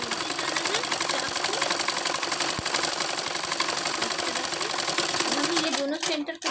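An electric sewing machine runs steadily, stitching a half-inch folded hem on a school uniform. The needle chatter is loud, fast and continuous and stays close throughout, then stops abruptly near the end.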